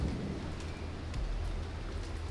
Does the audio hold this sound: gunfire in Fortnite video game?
no